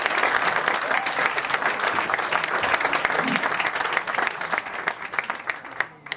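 Loud, close audience applause for Neil at a football club icons conversation event, continuous clapping that thins out near the end with a brief voice in the background.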